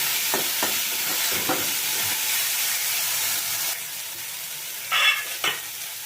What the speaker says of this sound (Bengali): লো ফ্লেমে আমি একটুখানি এটাকে নাড়াচাড়া করে কষিয়ে নেব